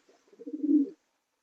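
A single racing pigeon, a young bird bought at auction, gives a short, soft cooing call lasting under a second, close and alone with no other sound around it.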